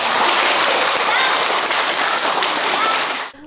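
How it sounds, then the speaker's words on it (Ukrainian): Children at a school charity event applaud their donors, a dense, steady wash of clapping that fills the space evenly before cutting off abruptly near the end. "а ті, в свою чергу, дякували благодійників теплими оплесками"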